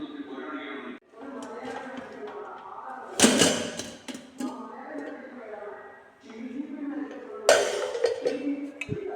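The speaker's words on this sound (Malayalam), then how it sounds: "അപ്പോൾ നമുക്ക് കുക്കറിൻ്റെ മൂടൊന്ന് ഊരി വെക്കാം." A pressure cooker lid comes off with two sharp metallic clanks, the first near 3 s and the second near 7.5 s, under steady talk in a home kitchen while a chickpea and rice dish is cooking.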